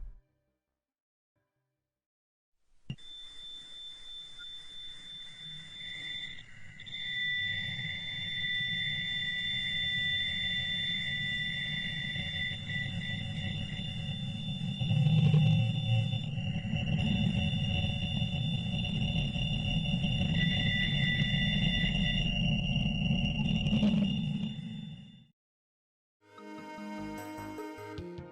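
A recording presented as the Wow! radio signal: an eerie, steady electronic drone with high sustained whining tones over a dense low rumble, holding for over twenty seconds before cutting off.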